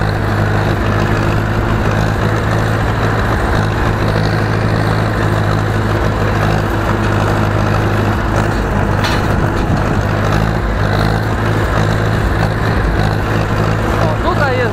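An Ursus C 360 tractor engine works hard while heavy harrowing a field, giving a loud, continuous diesel drone with steady low harmonics and cab rattle, close up and unbroken for the whole stretch.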